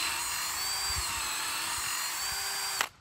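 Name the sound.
drill boring holes into a tree stump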